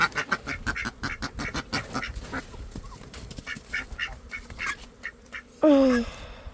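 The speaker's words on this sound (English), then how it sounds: "If you want to get a closer look at the Muscovy hen, right there" Muscovy ducks on a farm, with repeated short quacks and calls in a close, busy run, followed by a louder, drawn-out honking call near the end.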